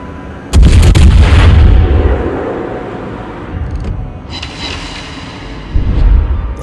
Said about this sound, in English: That's a poor result from that salvo.